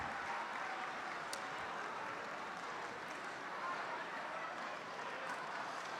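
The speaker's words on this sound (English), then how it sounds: "Give them a round of applause." A crowd at a Red and White Ball gala applauds a prize winner, a dense wash of clapping that holds steady and fairly distant for the whole stretch.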